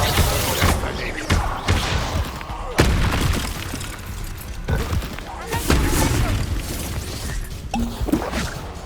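Repeated heavy booms and crashing impacts from Confringo spell explosions during a Hogwarts Legacy duel, several loud thuds spaced through the fight, with voices speaking between blasts.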